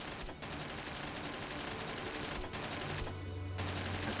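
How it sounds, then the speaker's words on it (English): An automatic rifle in the video game Space Engineers fires in a continuous rapid burst, with brief pauses between strings of shots, loud and close without talk. "The automatic rifle."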